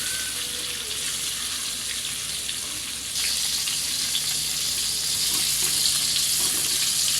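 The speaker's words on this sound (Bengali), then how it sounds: "এবারে এটা 5 মিনিটের মতো ভেজে নিব পটলটা।" Pointed gourd (potol) with a pinch of turmeric and salt frying in a pan, a continuous hissing sizzle that swells slightly partway through, close and without voices.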